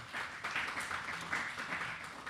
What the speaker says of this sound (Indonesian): Kasih tepuk tangan yang meriah bagi Tuhan.